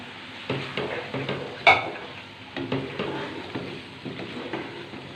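Boiled pasta and vegetables stirred in a hot pan for white sauce chicken pasta, a steady sizzle with repeated scraping strokes and one sharp utensil clink, close and continuous without voices.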